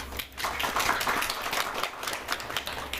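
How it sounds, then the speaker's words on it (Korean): Scattered clapping from a seated audience at a county education briefing, a loose, steady patter of hands lasting a few seconds at moderate level with no one speaking. "박수로 맞아주십시오."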